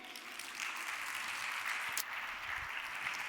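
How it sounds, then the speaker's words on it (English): Conference audience applauding a speaker, a steady, fairly faint patter of many hands clapping at a distance throughout. "Please give a big round of applause for Jürgen Czernohorski."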